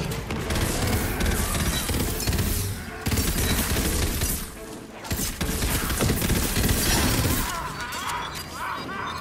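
A magic barrage attack in Tiny Tina's Wonderlands: loud, rapid crackling volleys of shattering impacts pour out almost without pause, with a short gap before the barrage resumes and a faint voice underneath.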